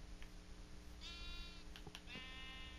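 Sheep in the SurvivalCraft video game give two drawn-out bleats about a second apart, with a faint third cry near the end, over a steady low background hum and with no talking.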